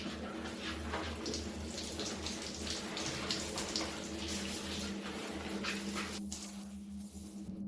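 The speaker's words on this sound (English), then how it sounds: "This is a spray gun. Actually, a regular shower head works too." Steady hiss of water spraying from a spray gun or shower head, a continuous soft rushing stream with small splashing variations, heard alone at low level.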